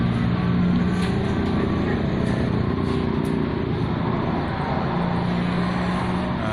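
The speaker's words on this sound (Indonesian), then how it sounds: "Kita akan hidupkan motornya." A Pixen motorcycle engine idles in a steady, low, continuous hum after its fault codes are cleared. The sound is close and even throughout, with no audible start.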